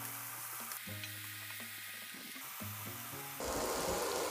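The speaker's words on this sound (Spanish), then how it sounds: "Vamos a pochar nuestra cebollita a fuego medio unos 10 minutitos" Onion fries over medium heat in a pan, making a continuous close hiss and sizzle. The sound grows louder and brighter near the end, while low tonal hums shift in the background and no one speaks.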